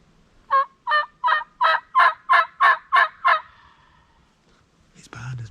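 A wild turkey gobbles in a fast run of about nine evenly spaced, loud, clear pulses, followed by a brief dull thump after a short pause.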